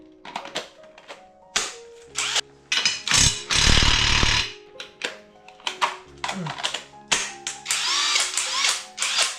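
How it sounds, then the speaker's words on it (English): A pneumatic impact wrench rattles against a car engine mount bolt in repeated hammering bursts, loud and near, with clicks and gaps between runs. "My rattle gun is shit."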